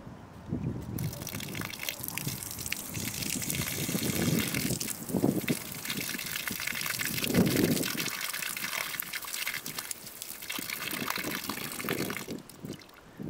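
Water runs steadily from an inexpensive garden hose bib spout with a fairly light flow, a continuous near splashing gush that swells and eases over several seconds, heard alone without talk.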